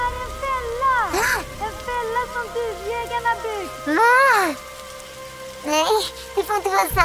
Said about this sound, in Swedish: Nej, det börjar regna. Det börjar regna nu också.